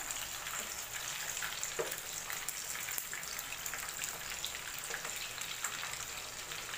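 Fish fillets coated in masala fry steadily in a pan, giving a continuous crackling sizzle with a few soft taps as a piece is turned over with tongs; no one speaks.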